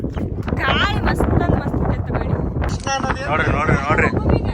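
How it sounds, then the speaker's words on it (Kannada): Outdoor wind gusts buffet the microphone with a steady, loud broadband rush that runs the whole time beneath people talking. "ಗಾಳಿ ಮಸ್ತ್"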